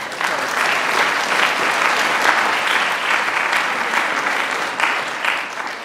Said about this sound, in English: So let's applause and wait for Paul's insights.